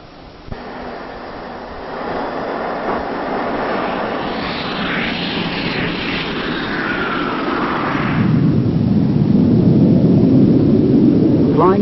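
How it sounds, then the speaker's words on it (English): Jet Provost jet trainer aircraft flying during RAF pilot training, a steady loud jet roar that swells and grows heavier toward the end, with faint narration-like sound early on. "The new aircraft is the Jet Provost, much more powerful than the chipmunk"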